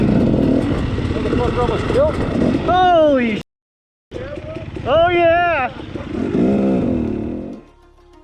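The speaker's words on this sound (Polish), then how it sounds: "Trzech rozpędzonych motocyklistów spotyka z naprzeciwka jadący samochód." Three speeding motorcycles and an oncoming car pass on a road, heard as loud rising and falling engine whines with sharp pitch sweeps, a brief dropout midway, and a voice exclaiming over the engine noise.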